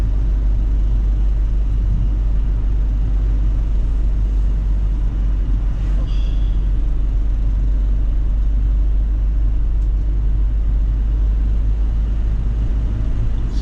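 A car drives along a quiet country road in the Scottish Borders between Hawick and Langholm, giving a steady, close, low engine and road rumble that stays even throughout with no speech.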